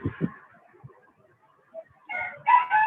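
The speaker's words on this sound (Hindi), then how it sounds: "ये मुर्गा को चुप करा यार" A rooster crows nearby, its rising, drawn-out call coming through loudly near the end, after a few low thumps and some faint background noise.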